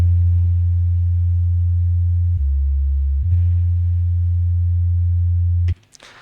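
A loud, steady sub-bass synth tone holds one pitch, drops lower for about a second, then returns before cutting off abruptly near the end.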